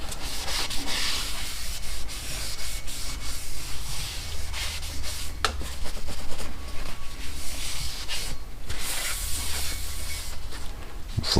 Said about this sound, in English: I'm cleaning the oil off of the brake rotor